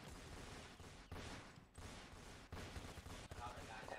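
Machine gun fire in a Roblox game, dense crackling bursts of rapid shots in several loud volleys, near and harsh, with a voice faintly present.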